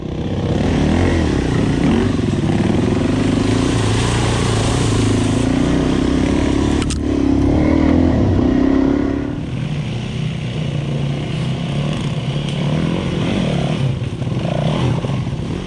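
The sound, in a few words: Suzuki DRZ400 motorcycle riding a fire trail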